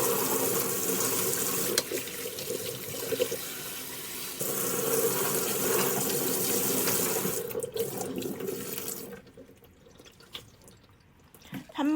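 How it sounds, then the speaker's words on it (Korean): Blanched eolgari greens rinsed under a cold running tap in a sink, steady splashing water for most of the time, then quieter drips and handling near the end. "그 다음 데친 얼갈이를 찬물에 이렇게 한번 깨끗하게 헹궈 주세요."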